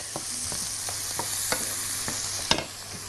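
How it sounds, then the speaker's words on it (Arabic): Onions and fava beans frying in a pan make a close, continuous sizzle broken by sharp scraping clicks of a spoon stirring at irregular intervals, with no speech. "نرجع تاني نقلي في الفول"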